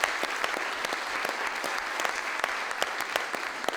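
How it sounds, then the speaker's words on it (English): Sustained applause from an audience at a formal event in Mexico honoring the Minister of Health, steady dense clapping filling the whole stretch with no talk. "he deserves a tremendous round of applause"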